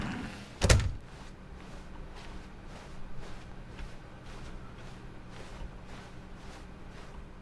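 In The Stanley Parable, a single office door thuds shut near the start, followed by a quiet room tone of soft repeated faint ticks.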